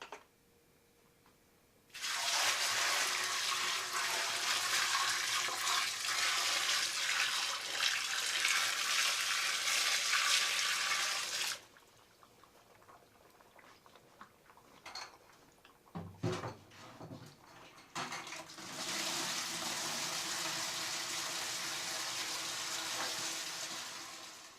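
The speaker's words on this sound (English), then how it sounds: "let's go ahead and start adding the water" Hot water poured from a hose into a 55-gallon barrel of rhubarb wine, a loud steady gush of running water in two long bursts, separated by a quieter stretch of handling knocks and clunks.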